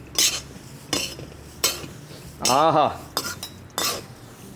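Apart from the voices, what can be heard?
mixing roasted jowar, masala and dry fruits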